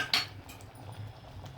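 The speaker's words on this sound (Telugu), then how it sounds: "తాలింపు కోసం నేను చిన్న గిన్నె పెట్టుకున్నాను" A small pot is set down on a stovetop to temper a dal, giving one sharp metallic clink near the start before a low, quiet kitchen background.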